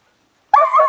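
A sled dog team, eighteen dogs strong, bursts into a single close, loud chorus of barking and yipping after a moment of silence.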